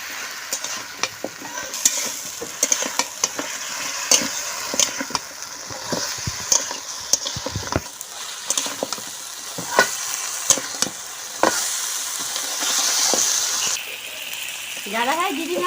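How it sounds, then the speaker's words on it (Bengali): Mutton paya with coriander, salt and dried red chili paste is stir-fried in a pan, with a steady sizzle and frequent scraping spoon strokes against the metal, close and continuous, with a voice talking at times. "5 মিনিট কষে দিই।"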